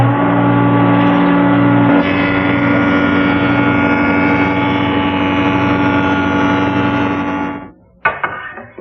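A jointer machine runs with a steady, loud motor hum while a board edge is squared and straightened, cutting noise continuous for several seconds before the machine winds down and a sharp clunk follows.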